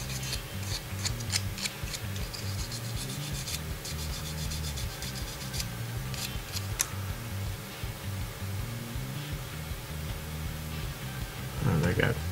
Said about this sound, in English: Now it's time to use the sandpaper, a little band, and try not to lose details.